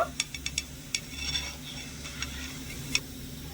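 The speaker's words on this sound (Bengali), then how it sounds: "অল্প সময়ের মধ্যে দেখবেন নিকুতি মিষ্টিগুলো একদম ভাজা হয়ে যাবে" Small semolina nikuti sweets fry in oil, a soft, quiet sizzle broken by a few sharp metallic clinks and taps of a spoon or utensil near the pan.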